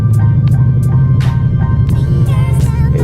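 A Ford Mustang 5.0 engine rumbling at low revs as it pulls away with the clutch released, a deep steady drone inside the car with some short clicks and rustles over it.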